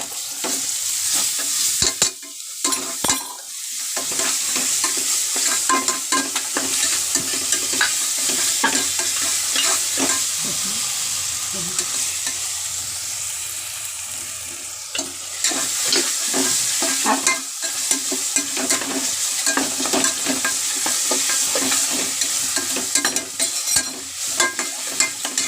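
Ginger garlic paste frying in a pan for mutton curry, a loud continuous sizzle broken by frequent scraping stirs and knocks of a spoon, close up and sustained with no voices.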